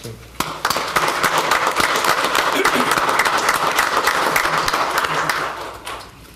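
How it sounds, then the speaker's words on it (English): A city council meeting crowd applauds loudly and continuously, a dense wash of clapping that swells quickly and fades near the end. "I think that deserves a round of applause."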